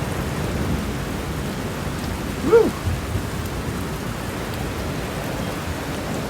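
Steady heavy rain hisses throughout, pouring off a boat's bimini top on the Tombigbee Waterway, with a brief shout of excitement partway through.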